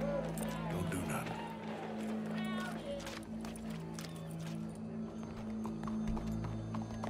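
Horse hooves clip-clopping in the Western video game Red Dead Redemption 2, a steady rhythmic clatter under layered game ambience with a horse whinny and crowd noise, no speech.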